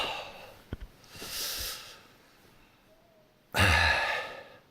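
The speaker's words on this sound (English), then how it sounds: "Now, I'm waking up. Yawn." A person yawning while waking up: two drawn-out, breathy exhalations separated by a quiet pause, the second louder, preceded by a couple of small soft clicks.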